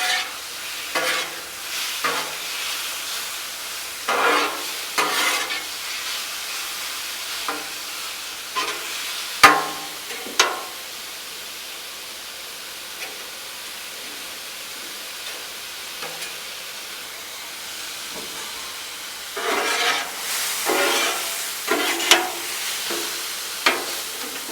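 Carne de pastor cooking for street tacos on a Blackstone griddle, a soft steady sizzle under repeated spatula scrapes and taps that come in bursts, one sharp metallic clack standing out, with no voices.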